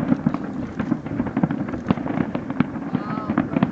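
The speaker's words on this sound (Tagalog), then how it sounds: "First time ever a witness spectacular fireworks in Dubai." New Year fireworks at the Burj Al Arab in Dubai crackle and pop continuously in a dense barrage with scattered louder bangs, while people talk and exclaim nearby throughout.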